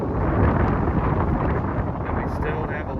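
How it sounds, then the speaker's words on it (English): Strong wind on a hilltop at Holy Hill, Wisconsin, in fall buffets the microphone in a continuous low roar, loud and rumbling throughout. "Sorry for the wind"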